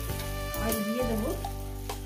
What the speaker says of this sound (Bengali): এটাকে আমি 3-4 মিনিট ধরে কষিয়ে নেব।